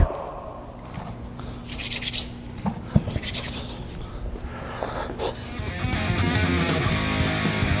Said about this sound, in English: Now we're going to apply some chalk.